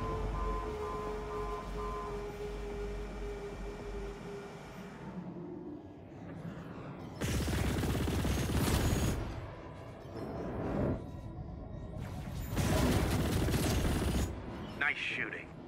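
Bursts of automatic gunfire in the sci-fi space shooter Chorus, two loud sustained volleys separated by a lull, over a low mechanical hum and fading ambient tones.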